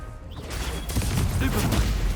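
Fiery Confringo spell blasts in a Harry Potter video game, a dense burst of explosive, crackling impacts over a low rumble with background game effects.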